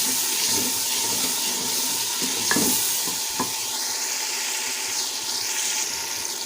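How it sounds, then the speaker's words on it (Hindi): Tomatoes stirred into a sizzling, nearly finished spice masala for a matar dal, giving a continuous frying hiss with a couple of sharp spoon scrapes partway through and no voice. "अब मैं इसमें टमाटर मिला दूंगी।"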